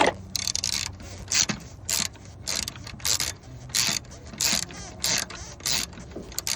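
Ratchet wrench tightening the battery terminal on a 2019 GMC Acadia Denali, a run of quick close mechanical clicking bursts in a steady on-off rhythm, loud and alone.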